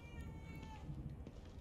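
A cat meows close by over the background audio of The Evil Within 2 being played; the sound is quiet and brief, and a voice may be talking faintly underneath.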